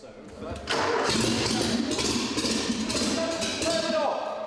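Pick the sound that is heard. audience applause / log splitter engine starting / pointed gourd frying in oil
log splitter engine starting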